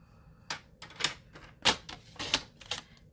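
Cardstock is trimmed with a paper cutter: a series of about six sharp, crisp clicks and snaps spaced irregularly over a quiet background, close and fairly faint.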